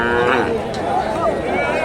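Holstein Friesian cattle moo at a busy livestock market in Bogura, a loud low drawn-out call rising over crowd chatter and voices talking nearby.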